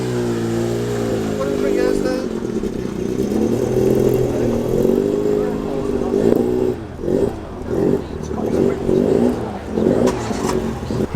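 A Mini's engine at a car meet revs and then pulls off in a steady drone that breaks into choppy, pulsing throttle blips, loud and close throughout, with no talking.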